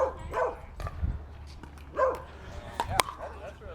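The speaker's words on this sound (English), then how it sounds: "Yeah, yes, that's my dog Cooper barking." A few sharp dog barks ring out at intervals, moderately close, over a low background hum.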